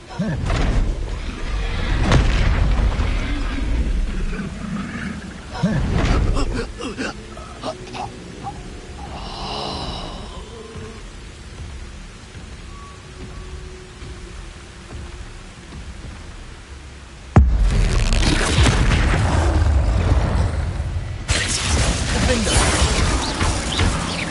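Explosive blast from the Expulso spell in the Hogwarts Legacy video game, heavy booming crashes with rumbling debris bursts at intervals amid game effects, with a voice speaking over parts.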